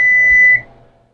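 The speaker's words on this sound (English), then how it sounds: "to turn off the alarm." A kitchen timer alarm sounds a single sustained electronic beep for about half a second while a one-pan kielbasa and cheese dinner is cooked, then cuts off and leaves quiet room tone.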